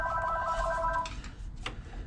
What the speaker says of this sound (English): Here's the phone rings.